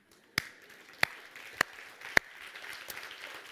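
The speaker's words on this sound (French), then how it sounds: "Oh, si tu es pour applaudir, casse-toi les mains" A few scattered, sharp hand claps ring out from a church congregation in a French-speaking service, roughly evenly spaced single claps over a faint, quiet room background.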